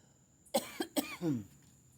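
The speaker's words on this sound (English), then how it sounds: "this water has some chemicals that makes me cough" A person coughs two or three times in quick succession, close by, with a short rasping breath at the end, in an otherwise quiet space.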